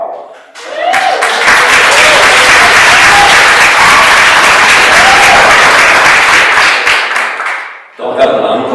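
A loud, close burst of audience applause at an end-of-term event, dense clapping rising quickly and holding steady for several seconds before cutting off, with a voice speaking briefly just before and after.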